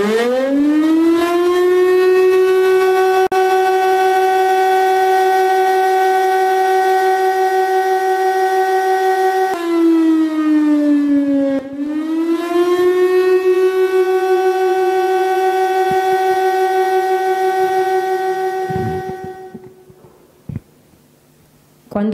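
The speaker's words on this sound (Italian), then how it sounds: "Quando suona la sirena" A loud civil defense siren wails with a long rising and holding tone, dips briefly and climbs again, then winds down and fades near the end, sounding alone and close.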